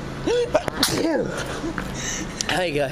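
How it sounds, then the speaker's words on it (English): A single sharp sneeze bursts out close by amid casual talk, with a person speaking briefly around it in an indoor setting. "You gotta sneeze."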